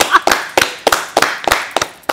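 A person claps their hands sharply and loudly, eight crisp claps in a fairly steady rhythm, close up with nothing else heard.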